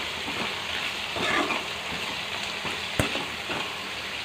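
Ivy gourd pieces sauté in a pan with salt and turmeric and are stirred. A soft, steady frying hiss carries light stirring rustles and one sharp knock near the end.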